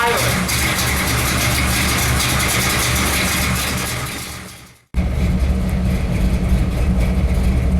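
A car engine idles steadily at a constant, loud, close-up drone while it warms up during a cooling-system repair, then cuts out abruptly for a split second before the same low rumble resumes.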